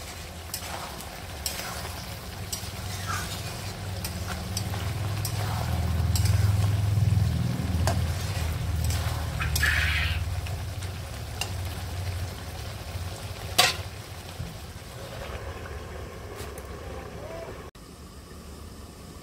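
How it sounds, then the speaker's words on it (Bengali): Mutton browning and being stirred in a pan for a Bengali-style curry, a moderate frying hiss over low rumble with occasional spoon clinks scattered through a long stretch. "আর একটু কষাতে হবে। যত মাংস কষাবো ততই ভালো লাগবে খেতে।"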